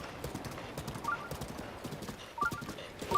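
Horse hooves clip-clop in an irregular trotting rhythm in Zelda Breath of the Wild, with faint tack jingles and a quiet game background, no speech.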